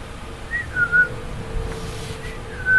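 Whistle call imitating the American goldfinch, New Jersey's state bird: short rising-then-falling whistled phrases, repeated a few times with gaps, moderately clear over a low background hum.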